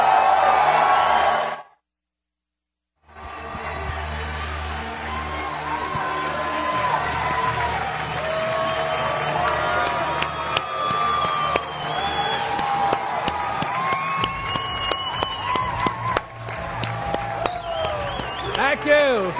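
An audience welcoming someone to the stage breaks into loud, sustained applause and cheering with whoops, rising after a brief silence and continuing under a voice.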